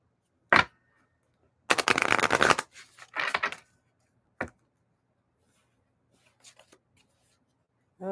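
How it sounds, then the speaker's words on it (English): Oracle cards being shuffled for a reading, a quiet room with a dense rustling burst near the middle, a few shorter riffles and taps around it, and long silences in between. "I still want to pull cards for you"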